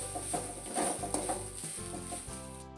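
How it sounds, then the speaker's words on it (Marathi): Fresh grated coconut being sautéed in a pan for wheat-flour modak gives a short burst of close sizzling and stirring, with a faint tonal hum running underneath. "आता त्याच्यामध्ये हा एक मोठी वाटी गच्च भरून ओला नारळाचा किस आहे हे टाकून घेऊ थोडंसं परतून घेऊ"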